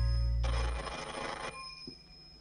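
An old telephone bell rings once in a clear, loud burst of about a second, then cuts off and leaves a quiet room with a faint hum.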